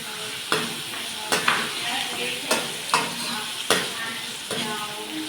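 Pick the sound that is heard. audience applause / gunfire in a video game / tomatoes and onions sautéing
tomatoes and onions sautéing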